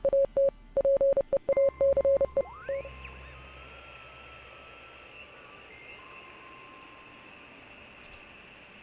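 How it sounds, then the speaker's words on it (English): Morse code in the game Oxenfree, rapid pulsed tones beeping in irregular dots and dashes through radio static, then giving way to a rising whine and steady hissing drone. "Does anybody know Morse code here?"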